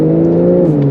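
Porsche 911 Carrera engine of about 400 horsepower droning loud and close from the cabin, a steady revving tone with a slight pitch shift near the end, heard alone for a brief moment.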